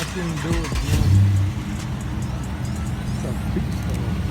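A Dodge Challenger Hemi muscle car engine revs up in a deep, loud rumble that swells for about a second and then settles to a low idle, while voices talk nearby.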